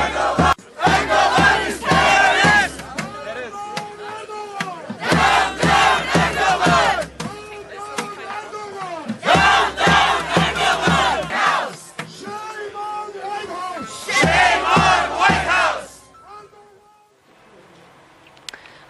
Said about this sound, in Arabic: وردد المتظاهرون هتافات منددة بسياسات أردوغان ضد الأكراد